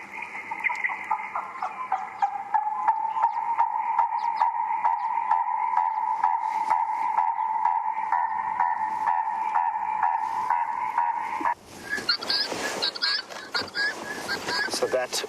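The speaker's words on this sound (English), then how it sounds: "That was the purple-crested chirico. It's a very significant sound." A purple-crested turaco calls on a safari morning with a long, loud, steady run of rapid repeated croaking notes. After a brief pause, sharper chattering bird sounds follow with faint background noise.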